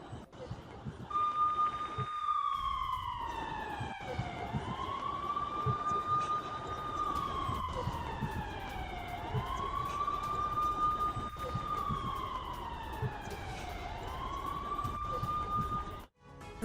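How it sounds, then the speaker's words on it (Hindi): Air-raid sirens wail across Kyiv after missile explosions during the Russian attack, long rising and falling tones repeating steadily and loud throughout, with no talk. "धमाकों के बाद शहर में बजने लगे सायरन"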